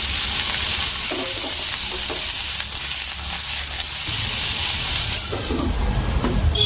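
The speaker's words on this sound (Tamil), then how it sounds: "கோவக்காவை இந்த மாதிரி நீளமாக கட் பண்ணிட்டேங்க. இதில் போட்டுறேன். இது கொஞ்சம் வதங்கட்டும்." Sliced ivy gourd sizzles steadily in hot oil with a cumin tempering, a continuous bright frying hiss broken by a few stirring scrapes, close and alone.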